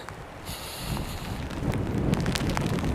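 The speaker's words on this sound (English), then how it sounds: "The wind is actually not as bad as it was when I looked outside today, but it's a little bit of a heavy rain." Wind and heavy rain outdoors in winter Reykjavik, a rough broadband rush of gusting wind on the microphone with patter of rain, growing slightly louder and steady, with no talking.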